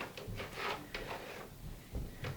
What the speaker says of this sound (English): when you open and close the drive a little bit by hand